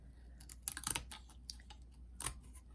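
Spring-loaded craft scissors snip excess paper from around the edge of a Christmas craft, giving a few soft, separate clicks and cuts at irregular intervals in a quiet room.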